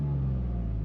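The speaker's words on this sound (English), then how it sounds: "I think it's the second best sounding exhaust for this car." A Toyota GR Corolla with an AWE exhaust holds a steady, deep droning rumble, loud and close and without a break, a low engine tone over the whole short stretch.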